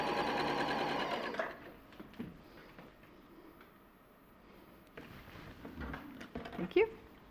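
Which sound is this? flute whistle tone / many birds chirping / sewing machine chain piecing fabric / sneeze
sewing machine chain piecing fabric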